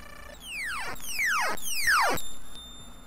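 Commodore 64 game sound effect built with a sound effects kit: three rapid descending electronic chirps in a row, each sweeping downward in pitch, followed by a short steady tone, loud and alone.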